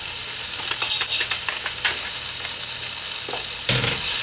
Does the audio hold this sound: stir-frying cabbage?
yes